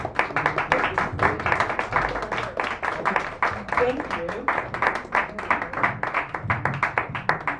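Dense applause from an audience at a poetry reading in a San Francisco cafe, steady clapping throughout with a voice briefly speaking over it.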